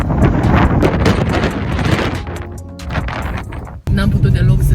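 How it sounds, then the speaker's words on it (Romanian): Strong wind buffets the microphone outdoors at a monastery on the Greek island of Paros, loud continuous roaring gusts with a brief drop near the end before the blast returns. "pentru că bătea prea tare vântul"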